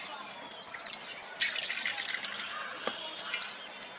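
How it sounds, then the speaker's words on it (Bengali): Water pours into a pot to make sugar syrup for sweet potato pitha, a splashing trickle that swells midway, with dripping and faint clinks around it. "দিয়ে দিচ্ছি জল,"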